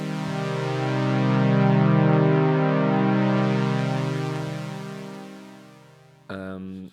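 Techno synth pad chord with its filter opened partway, about 70%, rising and softening over several seconds before a short, abrupt different tone cuts in at the end; loud and without voices.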